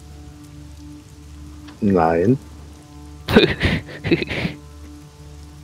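Steady rain patters and drips onto forest leaves, a soft continuous wash running throughout, with brief voices speaking over it.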